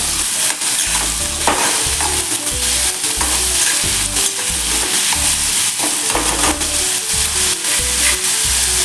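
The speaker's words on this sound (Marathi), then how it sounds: "मिक्स करून घ्यायचे तेलामध्ये त्यामध्ये चवीनुसार मीठ घालून घ्या बहुत छान मिक्स करा" Red pumpkin pieces being stirred and fried in oil for a fasting-day vegetable dish: constant loud sizzling with repeated scraping strokes of a spoon against the pan, no talking.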